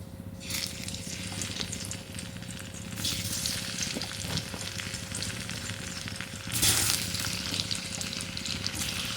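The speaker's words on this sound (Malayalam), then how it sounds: "എണ്ണ നന്നായിട്ട് ചൂടായി നമുക്കിതിലേക്ക് കോവയ്ക്ക എടുത്തിടാം" Ivy gourd (kovakka) fries in hot oil with a steady, dense sizzle that swells briefly partway through. It stays loud and continuous, with no voices.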